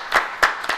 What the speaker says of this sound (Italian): un applauso ai ragazzi della Sangro Bike